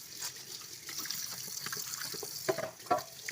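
Water runs and splashes while a rusty cast iron dosa pan is rinsed clean, a steady nearby trickle with a couple of brief knocks of the pan near the end.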